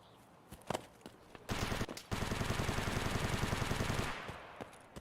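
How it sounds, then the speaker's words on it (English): Automatic gunfire from the video game Escape from Tarkov rattles in a long rapid burst after a few scattered shots, loud and sustained before cutting off, with no talk. "Let me go back to that gunshot sound."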